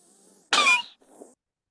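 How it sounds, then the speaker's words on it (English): A silent cough made of short bursts of air pushed from the lungs without engaging the vocal cords: one sharp breathy burst followed by a softer second puff, close and quiet, with no voice. "the only sound you're going to hear is going to be these bursts of air coming out."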